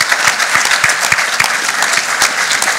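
An audience at a trophy and medal ceremony claps in a dense, steady burst of applause from many hands, loud and close, with no speech over it.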